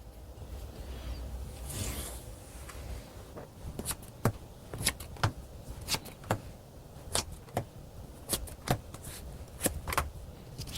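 Tarot cards handled and shuffled during a reading: after a soft rustle, a series of sharp, crisp card snaps and flicks land one after another at irregular intervals, close and fairly quiet, with no talking.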